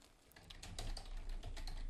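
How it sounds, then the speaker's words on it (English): Rapid computer keyboard typing close by, an irregular run of clicky keystrokes over a low background hum. "I don't know if you can hear me typing anymore with this one."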